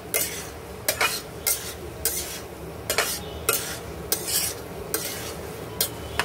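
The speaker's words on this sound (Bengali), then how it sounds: "মাছগুলো একদম ঘেটে ফেলছি" A spatula scrapes and stirs through fish being mashed in a hot frying pan (kadai), with repeated sharp metallic scrapes at an uneven rhythm over a low sizzle, close and fairly loud.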